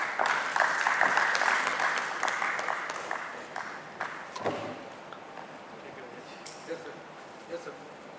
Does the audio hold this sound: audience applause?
yes